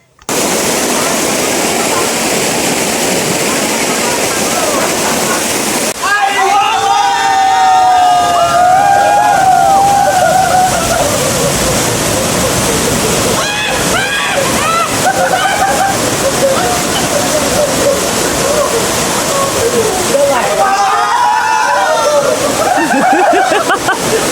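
A forest waterfall pours in a steady broadband rush that runs the whole time, with splashing close by and voices talking and calling over the water at several points.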